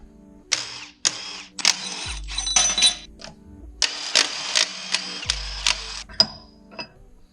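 The pump comes out of a Ford 5R110W transmission from a 2004 F350 6.0L diesel. Repeated bursts of mechanical whirring and buzzing alternate with sharp metallic clunks and a few low thuds, close and loud, with no talking.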